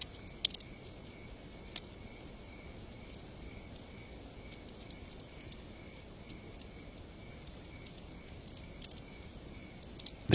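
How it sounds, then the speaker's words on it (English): Crickets chirp at night in a faint, steady high-pitched trill over a soft background hush, with a couple of small clicks. "The crickets here call all night long."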